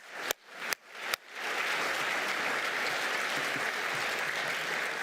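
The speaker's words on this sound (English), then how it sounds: "that's a round of applause." Three sharp claps ring out, then sustained applause from a conference audience at a keynote speech fills the rest, steady and fairly loud.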